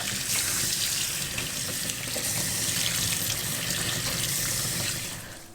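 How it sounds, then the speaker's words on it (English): Steady running water pours from a faucet into a sink while freshly made paneer is rinsed with cold water in a cloth, a continuous close splashing rush that fades slightly at the very end. "we want to drain it and wash it in some cold water"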